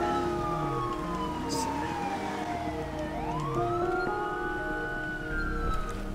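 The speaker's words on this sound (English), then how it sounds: "Hey, turn off your sirens." Police car sirens in the video game GTA wail and sweep up and down continuously, several overlapping at moderate distance, with traffic noise underneath.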